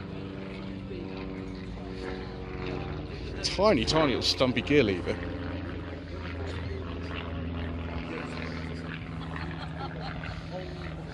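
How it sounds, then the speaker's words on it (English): A propeller airplane drones overhead at an outdoor BMC and Leyland car show, a steady hum that swells briefly in the middle, heard under someone talking throughout. "Sorry about the plane overhead view."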